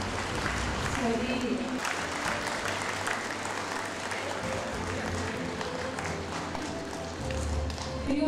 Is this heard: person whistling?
no